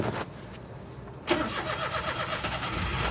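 A kei car with a 5-speed gearbox cranks briefly and fires up on its own, then settles into a steady, close idle.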